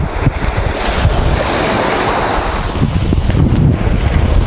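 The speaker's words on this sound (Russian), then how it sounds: "Господи, какой прекрасный звук волн." Sea waves wash onto the Azov Sea shore, a continuous rushing surf close by with wind buffeting the microphone, no voices.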